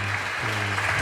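Applause from an audience at an Islamic religious lecture held on the night of Eid al-Fitr, a steady wash of clapping filling the short moment without voices.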